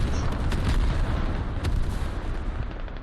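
A creeping artillery barrage in the tactical shooter Squad on the Kokan map, rolling heavy booms and rumbling blasts that run together into a continuous loud low roar for the whole stretch.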